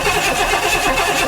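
Buick 455 V8 cranking on the starter button, a continuous churning whir without catching, loud and close, with no clear firing.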